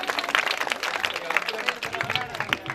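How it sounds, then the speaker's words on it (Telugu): A church congregation at St. John parish, Chirala, claps together in a dense, steady patter of many hands, fairly close, with voices talking over it. "చప్పట్లు కొడతాం దేవుని"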